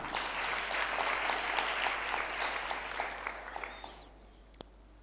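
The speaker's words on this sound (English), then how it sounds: "I think we can give her a better clap." Audience at a national stakeholders' forum on housing and slum dwellers gives a sustained round of clapping, full and steady for about four seconds before thinning into a few scattered final claps.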